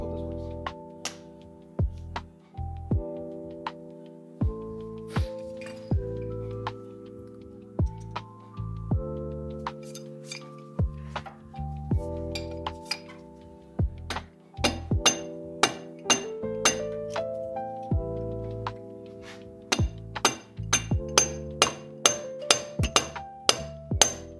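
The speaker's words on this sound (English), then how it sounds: "I'm gonna hammer this to maybe break it free" A pipe wrench strikes a stuck metal part of a 2024 Honda Civic Si again and again, each blow leaving a ringing metallic tone; the hits come steadily, then quicken into rapid bursts toward the end.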